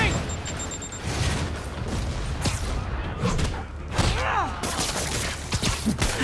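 Repeated rocket explosions in a Spider-Man video game, loud booms and thuds rolling into one another with debris and mechanical clatter, alongside game music and effects and a few brief game voices.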